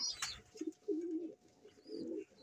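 Pigeon coos in low, rolling phrases, two clear bouts close by, with a brief higher chirp early on and no talk; the bird is a leg-banded fancier's pigeon due for a bath.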